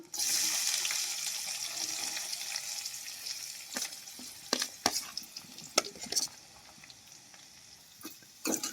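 Onions dropped into hot oil, hissing loudly at first and then settling to a softer sizzle broken by several sharp scrapes and clatters of stirring.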